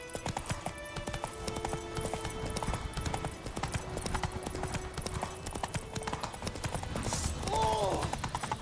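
Horse galloping in The Witcher 3, steady rapid clip-clop hoofbeats close up throughout, with a brief whinny near the end and someone talking over it.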